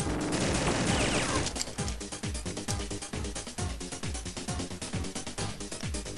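Explosions from a video game boss fight crackle and boom in a rapid, dense barrage, loud and continuous at first, then settling into a steady series of punchy blasts.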